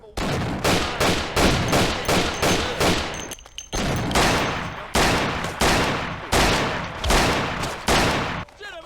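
Rapid bursts of gunfire from the Mafia video game rattle out in a dense, continuous volley, loud and close, each burst clipped by short gaps with a brief lull near the middle.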